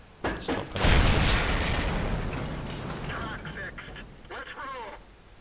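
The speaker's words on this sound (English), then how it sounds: "there was an artillery shell coming my way" An artillery shell explosion in the World of Tanks video game lands as a heavy, close boom that rolls on with a long rumbling tail, followed by faint radio-like chatter.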